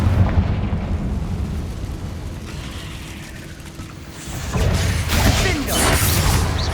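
A Confringo blasting spell bursts in Hogwarts Legacy, a loud whooshing blast erupting over a busy game soundscape and ringing out for a couple of seconds.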